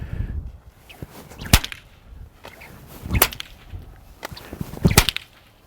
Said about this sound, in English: Now I'm not particularly good with a stock whip back, so close your eyes.